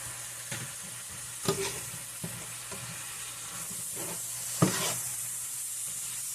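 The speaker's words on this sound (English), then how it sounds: "I'm going to give it a quick stir." Seasoning stirred into a sizzling pot of Philly cheesesteak rigatoni filling, a soft steady sizzle and hiss broken by a few scraping stir strokes and clinks close by.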